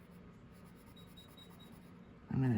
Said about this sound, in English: I'm going to darken it with the colored pencil.